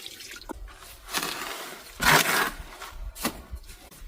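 Water trickles and splashes into a dry lime mortar mix during a stone wall repair, coming in quiet irregular bursts with one fuller surge midway.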